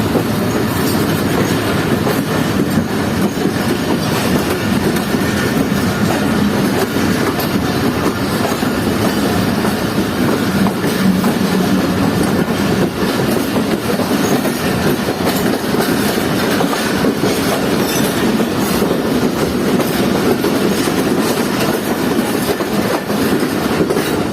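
Sukkur Express passenger train, led by locomotive HM 38215, running near Nawabshah railway station in Pakistan: a loud, steady rumble with continuous clickety-clack of wheels over rail joints and faint squeals, alone for the whole stretch.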